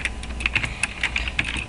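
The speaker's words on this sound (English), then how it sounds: "if you hear like really loud clackety clack, of course, obviously it's my keyboard" An old computer keyboard clacks loudly under quick, uneven typing, with a steady stream of sharp keystrokes heard close up and no voices.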